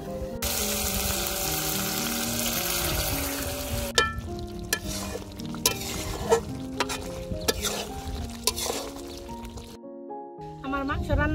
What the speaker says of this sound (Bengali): অল্প পরিমাণ ঝোল দিয়ে দিব।